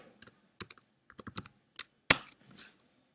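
Typing on a computer keyboard: scattered bursts of quick key clicks with short pauses and one sharper, louder strike near the middle, close and fairly quiet with no voices.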